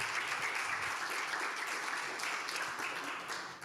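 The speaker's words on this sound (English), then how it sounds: "Let's give them a round of applause." A church congregation applauding warmly, a dense steady clapping that holds its strength before fading slightly at the end.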